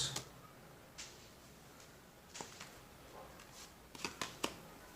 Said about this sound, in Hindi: यहाँ पर 3 कार्ड्स निकालूंगा गाइस